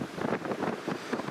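Strong, gusty Storm Otto wind buffets the microphone at Newcastle International Airport, a loud continuous roar pulsing with rapid gusts, with no voices.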